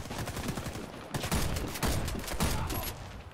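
Loud video-game shotgun blasts from the Sidewinder in Warface fire in quick succession, each a harsh burst of noise, several shots close together with no talking.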